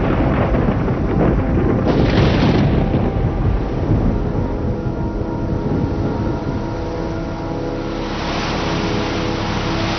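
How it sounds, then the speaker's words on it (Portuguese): A thunderstorm strikes a beach: loud, sustained rumbling and crashing noise with a heavy burst early on, rolling continuously without voices. "a tempestade que eles tentavam evitar atingiu a praia"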